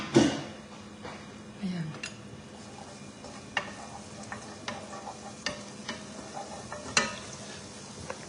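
Garlic fries in hot oil in a pan with a soft, steady sizzle, while a spoon scrapes and clinks against the metal. A voice speaks briefly over it.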